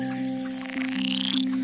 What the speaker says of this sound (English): Frogs?